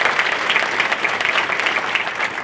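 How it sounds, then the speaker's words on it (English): An audience at a Columbus, Ohio event on Black wealth breaks into steady, sustained applause, a dense wash of clapping that holds at an even level from start to finish without voices. "Just give him a round of applause."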